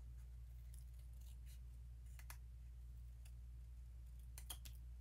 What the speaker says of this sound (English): we're just gonna cut around